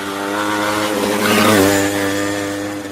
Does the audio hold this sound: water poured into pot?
no